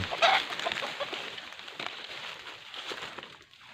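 Chickens cluck in a forest setting, a burst of bird calls near the start followed by softer, scattered clucks over a constant background hiss.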